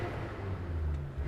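A car engine on a dyno revving above 3,000 RPM, a steady low rumbling drone with a faint rise in pitch over a short stretch, heard alone.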